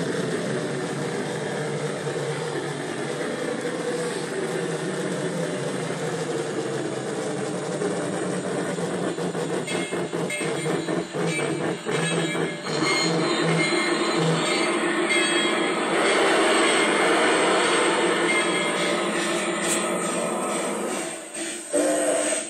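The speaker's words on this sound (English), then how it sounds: "that is a pretty cool locomotive" A Bachmann Meadow River Lumber Company three-truck Shay model locomotive runs steadily nearby with a continuous whirring motor drone, gear chatter and rail noise that swells louder midway.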